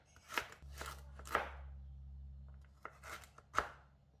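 A knife chops through galangal root on a cutting board, five or six crisp separate thuds in an uneven rhythm, close and clear over a steady low hum, with no talking.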